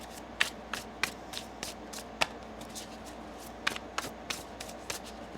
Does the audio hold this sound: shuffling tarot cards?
yes